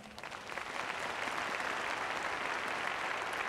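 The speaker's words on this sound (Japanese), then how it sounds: "ご来場の皆さん、今一度ダミアン選手へ大きな拍手をお願いいたします。" Crowd at a J1 league title celebration event in Japan applauding football player Damian, steady dense clapping from a large audience that builds slightly in the first half second then holds even and full.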